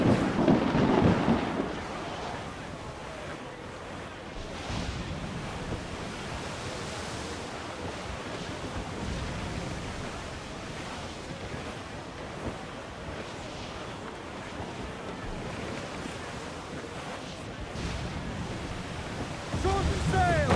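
Stormy sea in Assassin's Creed 4 Black Flag: a steady roar of wind and crashing ocean surf through a thunderstorm squall, loud and continuous, with heavier rumbling gusts near the start and end.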